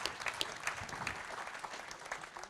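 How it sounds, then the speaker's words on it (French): Audience applause at a 2017 conference on work, disability, accessibility and vocational training: a dense, even patter of many hands, moderately distant and fairly quiet, with no voices above it. "Donc moi je pense qu'on peut applaudir aussi,"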